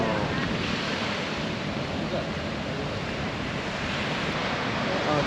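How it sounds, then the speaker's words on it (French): A strong wind buffets the microphone at a beach in Tangalle, Sri Lanka, as a continuous roaring gust blended with crashing surf, loud and close throughout. "un bon vent"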